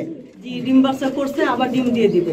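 A pair of almond-coloured Danish pigeons coo in a steady, close stream of low, throaty murmurs, with voices talking over them throughout.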